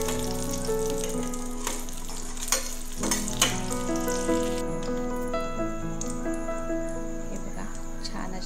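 Green chillies frying in hot oil for batata vada, a continuous close sizzle punctuated by sharp pops and a few clanks of a utensil against the pan, with a faint voice now and then.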